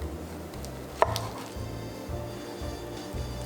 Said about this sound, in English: This egg omelet is cool, so we'll also cut this as well.